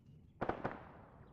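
A short burst of two or three sharp gunshot cracks in a military video game, heard at a distance in a desert setting, rising from a quiet background and fading quickly.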